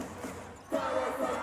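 A basketball arena crowd at a Japanese B.League game swells into a loud roar of cheering partway through, after a quieter start.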